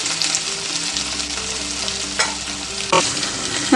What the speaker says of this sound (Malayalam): ഈ എണ്ണയിൽ കിടന്ന് ഒന്ന് വരട്ടിയെടുക്കണം.